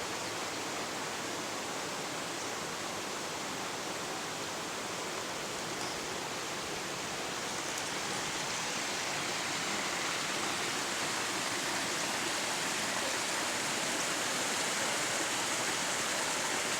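Constant rushing of rainwater flowing through a road culvert with rocks around its intake, a steady broadband hiss like a stream pouring through a pipe, unbroken and fairly loud throughout.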